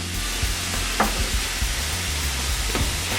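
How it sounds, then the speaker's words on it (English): Flour being whisked into melted butter in a hot pan for a roux for shrimp étouffée, a steady sizzle with light stirring and whisk clicks throughout. "what we're gonna do with the flour and the butter, make the roux"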